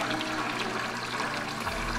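Steady rushing and gurgling of water flowing through an aquarium gravel vacuum tube into a 5-gallon jug during a water change, close and continuous, with no voices.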